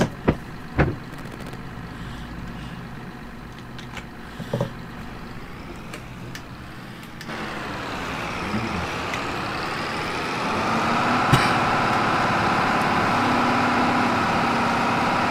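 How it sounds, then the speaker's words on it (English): Deutz Fahr 2680 combine harvester in Farming Simulator 22: a few knocks, then the engine idles and revs up into a loud steady drone that climbs in pitch. "So fairly loud combines."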